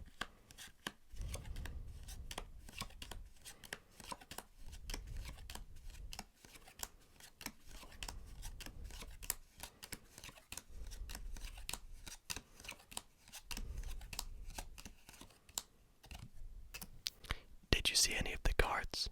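Playing cards handled and flipped through close up during an ASMR card magic routine, with soft repeated riffles and snaps in bursts and a whispering voice between them.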